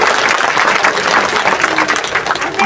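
Enthusiastic audience applause at a Marathi religious and community gathering, dense continuous clapping from a crowd filling the space, steady and loud throughout without speech.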